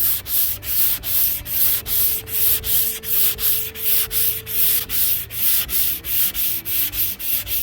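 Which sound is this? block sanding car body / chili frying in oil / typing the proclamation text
block sanding car body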